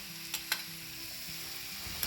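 A spoon stirs devilled chicken with soy and oyster sauces in a hot frying pan, soft sizzling underneath with a few sharp scrapes and clinks, quiet and close.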